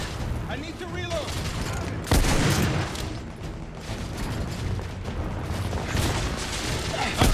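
Sustained video-game gunfire in The Order 1886 on PS5, dense overlapping shots and booms filling the whole stretch with a heavier burst partway through, loud and close, with in-game voices shouting over the battle.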